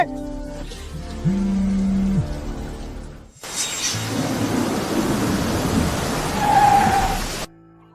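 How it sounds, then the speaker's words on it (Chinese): Heavy rain pours down in a rural watermelon-growing village, with a loud rumble of thunder rolling in; a brief musical tone sounds at first before the steady downpour fills the scene. "下雨了"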